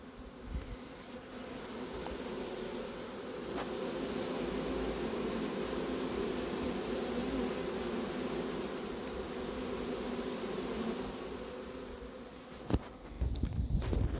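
Dense, steady buzzing of many honeybees from a swarm being hived, some on cardboard, fills the air for a long stretch, broken by a few sharp knocks near the end.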